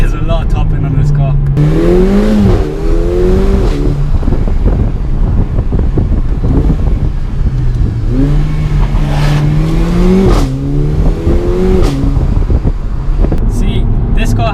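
A Mercedes A45 AMG hot hatch in Sport Plus mode revs hard to high rpm twice, the engine note climbing steadily each time and then easing off. The car is loud and close, with wind roar underneath and a voice speaking over it.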